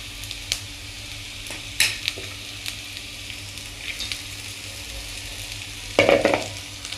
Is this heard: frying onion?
yes